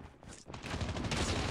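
Submachine gun and assault rifle fire from the Call of Duty Mobile video game pour out in a dense, steady roar of overlapping rapid shots. It sounds continuous and fairly loud, with no speech over it.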